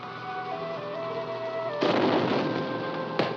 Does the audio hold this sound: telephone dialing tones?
no